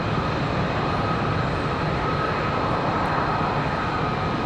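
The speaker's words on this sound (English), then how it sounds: "This one here, Republic Airways 4493. This one should be headed off to Chicago." A Republic Airways jet departing Raleigh-Durham International toward Chicago, a constant dense engine roar with a faint high tonal whine, steady and fairly loud throughout, no speech.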